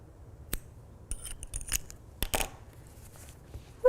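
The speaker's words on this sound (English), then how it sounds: "I'm just gonna cut this here." Scissors snip yarn on a crocheted amigurumi ghost, giving a few quiet, close, crisp cuts spaced over a few seconds, with no talk.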